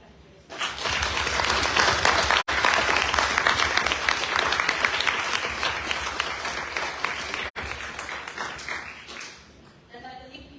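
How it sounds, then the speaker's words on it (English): An audience at a chemistry tournament applauds the competitors, steady clapping from a roomful of people that rises abruptly, holds for several seconds, then tapers away. "a big applause to all competitors."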